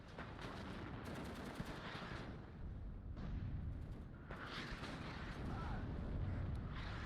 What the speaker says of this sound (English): this artillery now is not hitting anything